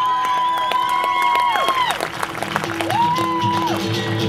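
A chamber audience at the 2009 Freedom Summit in Phoenix, Arizona, gives sustained applause and cheering. It is a dense, steady wash of clapping with scattered shouts, held under two long electronic tones.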